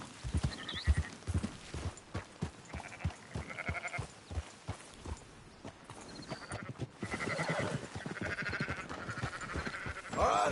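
Sheep in Red Dead Redemption 2 bleat over and over amid a flock being herded, their wavering cries rising over steady clip-clopping hooves and occasional horse snorts, fairly close and busy throughout.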